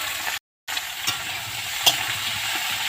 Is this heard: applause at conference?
no